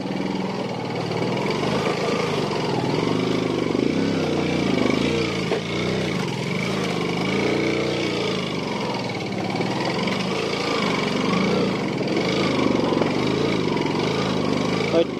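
Motorcycle ridden on a badly broken rough road, its engine droning steadily and straining with wavering revs throughout, voices talking over the ride.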